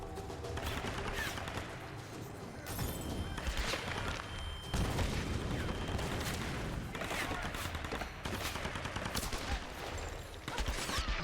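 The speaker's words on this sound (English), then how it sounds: "I just need to shoot this thing." Rapid bursts of gunfire and booming shots ring out continuously in the action video game Tomb Raider, dense volleys layered over a rumbling game soundtrack.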